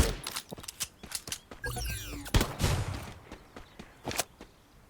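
Gunfire in a video game, with a run of sharp, closely spaced shots and thumps mixed with other game effects at moderate loudness.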